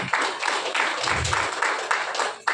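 An audience bursts into steady applause, dense overlapping hand claps at close range that carry on without a break and fade slightly near the end.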